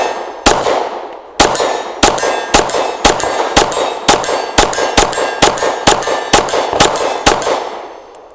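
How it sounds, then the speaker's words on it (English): An Ermox X-fire semi-precock striker pistol with a heavy trigger fires about a dozen sharp, loud shots in quick succession, each cracking sharply and ringing briefly, spaced roughly half a second apart. "I don't know if I can shoot this quickly to test the mag with the trigger this heavy, but I will go through it"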